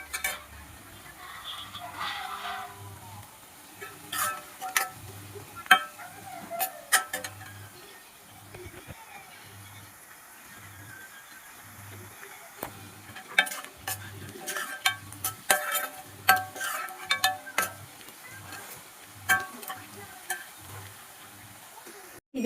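Onions roasting in oil in a pan while a dish is being cooked, with soft sizzling and a steady rhythm of spatula stirring and scraping against the metal.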